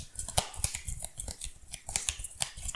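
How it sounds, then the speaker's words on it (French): Playing cards from a Marvel Champions deck being shuffled by hand at a tabletop game, a run of quick, crisp card riffles and taps at close range with no voices. "je mélange Jefferson Davis dans ma pioche de maintenant 4 cartes."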